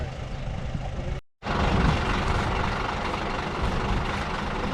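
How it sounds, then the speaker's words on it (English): A truck's heavy diesel engine runs steadily at close range on a muddy construction site, with a brief dropout partway through and no talk. "They backed the truck up"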